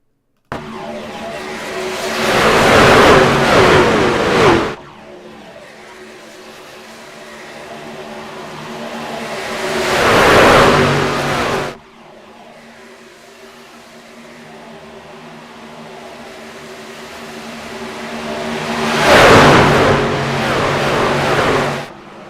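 Race truck engines roar at Daytona in the iRacing sim game, swelling in three loud bursts that cut off abruptly, with quieter engine drone in between.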